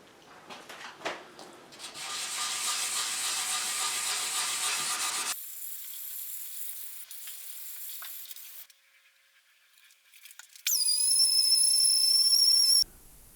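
Thinline Telecaster guitar body finish being polished, a steady rubbing hiss from a buffing pad that runs for a few seconds then stops, followed by a quiet gap and a brief high whine.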